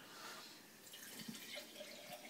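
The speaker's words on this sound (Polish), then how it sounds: "ja wlewam trochę tej wody przygotowanej" Prepared water trickling and dripping into a used sourdough-starter jug for rinsing, a faint, quiet splashing with small drips.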